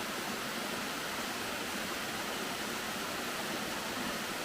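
Rufus Morgan Falls near Franklin, North Carolina, pours in a steady broadband rush of falling water, a continuous even roar with no pauses and no voices.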